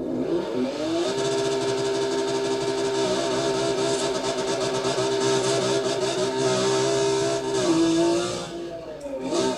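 Drag car engine held at redline before launch, a loud sustained high-pitched scream that stays flat for several seconds, then drops and briefly surges again near the end, with no talk over it.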